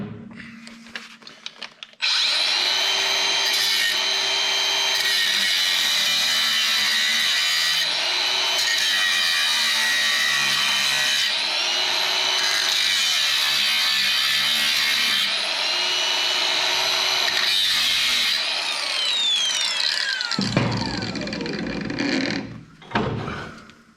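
Power tool with a cutting wheel grinding through the muffler on a wheel loader during repair, a loud, continuous high-pitched metal-cutting whine that runs nearly unbroken for about eighteen seconds with slight pitch dips, then stops with clatter at the end.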